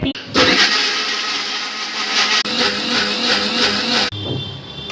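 A kitchen blender whirs loudly and steadily as it grinds onion, garlic, ginger, green chili and tomato into a masala paste, with two brief breaks in the motor's roar before it cuts off near the end.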